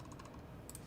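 Typing on a Bubble 75 keyboard fitted with Aqua Kings switches, a quick run of soft, close keystrokes over a steady low hum, with a brighter pair of clacks near the end.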